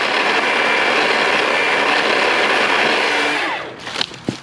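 A Milwaukee pole saw whines loudly and steadily as it cuts through tree branches, then winds down and stops, followed by a few light knocks and rustles.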